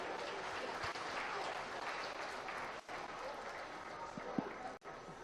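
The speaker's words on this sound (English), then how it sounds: "Put our hands together for Hunter." Sustained applause from a crowd at a county fair swine show, steady clapping filling the space for several seconds with a few louder claps near the end.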